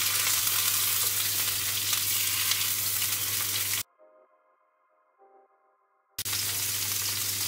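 Salmon pieces frying in a pan after being flipped, a loud close steady sizzle that cuts to near silence for about two seconds, then resumes just as strongly.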